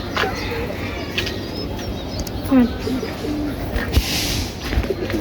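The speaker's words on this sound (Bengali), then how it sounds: "তারপরে আমার আরও কবুতর আছে যে এই কবুতরগুলো আমি একটু দেখাই আপনাদের" Pigeons in a rooftop loft coo softly in short low bursts, with scattered wing flutters and shuffling nearby.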